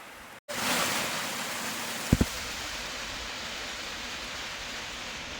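Rain falling outdoors on an open field, a loud, continuous broadband wash that holds steady, broken midway by a brief double knock.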